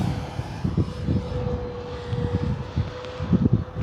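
An FMS P-47 Thunderbolt RC warbird, a 1500mm model, climbs under hard throttle, its electric motor whining steadily over gusty wind rumble and microphone buffeting, fairly loud throughout with no voices.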